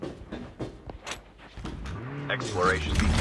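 A car moves in a Call of Duty match, its engine hum rising and growing louder toward the end. Excited voices talk over it throughout.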